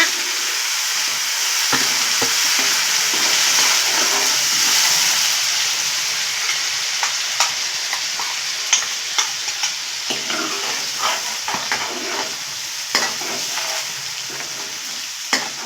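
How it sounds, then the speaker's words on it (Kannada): Masala for a restaurant-style paneer curry sizzles loudly in a pan, with a dense hiss in the first half and then frequent sharp spatula scrapes and knocks, close up and with no voices. "2 ಮಿನಿಟ್ಸ್ ಇದನ್ನು ಫ್ರೈ ಮಾಡ್ಕೊಳ್ಳಿ. ಮಾಡ್ಕೊಂಡಿರೋ ಮಸಾಲೆನೆಲ್ಲ ಆ್ಯಡ್ ಮಾಡ್ಕೊಳ್ಳೋಣ."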